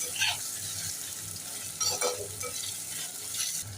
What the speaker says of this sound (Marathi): टोमॅटो सुद्धा व्यवस्थित फ्राय करून घेऊया